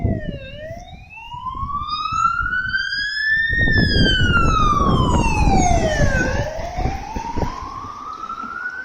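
A loud emergency vehicle siren wails close by, its tone sweeping up and down in long rising and falling cycles over the rumble of road traffic.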